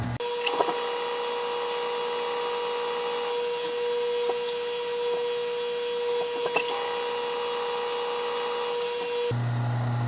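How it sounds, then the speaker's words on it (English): A lathe drilling a pen blank with lubricating liquid gives a steady mechanical whine and hum throughout, with a few sharp clicks, then the pitch drops near the end as the machine changes speed. "I'm drilling this on my lathe"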